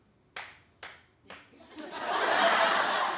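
A studio audience on a television talk show breaks out in applause: a few sharp separate claps first, then a dense, swelling wash of many hands clapping together, fairly loud and close.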